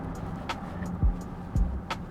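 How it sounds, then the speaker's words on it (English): SsangYong ute in Brisbane braking gently at about 20 percent after a full brake job, with a low vehicle rumble and two short low scraping surges near the middle. "what I'm going to do is I'm going to hit the brakes"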